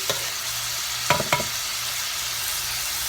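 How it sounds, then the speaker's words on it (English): Shrimp cooking in a pan give a steady, close sizzle of frying throughout, with a couple of brief clinks or stirring scrapes near the middle and no talk. "You want to make sure you allow your shrimp to cook through"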